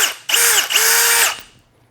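A cordless two-speed hammer drill whirs up close in two short bursts, a high-pitched motor whine with a brief dip between runs, then spins down to silence.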